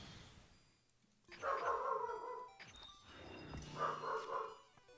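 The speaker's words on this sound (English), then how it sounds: "Can you guys hear Cornelius barking right now" Corgi barking in a room, two bursts of rapid, harmonic barks, each lasting about a second, fairly near and clear, with a faint voice at moments.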